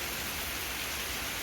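Rain falls during a severe thunderstorm in Pittsburg, Kansas, a steady, even hiss of noise with no distinct drops or thunder.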